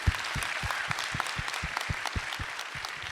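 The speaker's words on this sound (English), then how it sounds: "give him a round of applause" Comic-Con Q&A audience applauding, a short burst of dense clapping with a few distinct louder hand claps standing out near the front.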